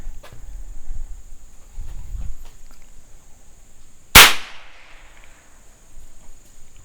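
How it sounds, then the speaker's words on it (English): A single percussion cap fired on a muzzleloader, one sharp loud crack partway through with a short ringing tail, after quiet background sounds. "I may be able to blow it out the end with a cap"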